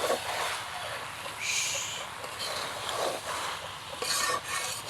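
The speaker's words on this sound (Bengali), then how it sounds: "একটু ভালো করে কষাই নিব, কুমড়ো কষানো না হলে ভালো লাগে না।" Pumpkin chunks are stir-fried in a pan for a Bengali kumror chokka, with a steady soft sizzle under repeated scraping and stirring strokes of a spatula, close and moderately loud.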